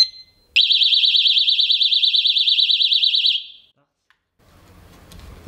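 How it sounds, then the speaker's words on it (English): A Kovix steel chain lock's 120 dB alarm shrieks close up: a piercing, rapidly warbling high tone held for about three seconds, then it cuts off and faint handling noise follows. "it'll give you that 120 decibel ear piercing alarm"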